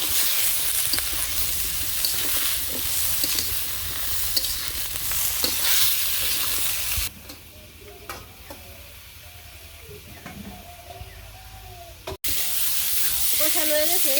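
Mustard dish frying in a pan in a village kitchen, with a continuous sizzle and scraping stirs close by, then dropping to a quieter bubbling simmer while someone talks, before the loud sizzle returns.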